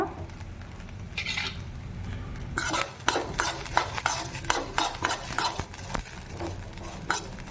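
Red chillies and carrots frying in a pan give a faint sizzle at first, then a busy stretch of repeated spoon scrapes and clinks against the pan over the crackle, close by and without speech.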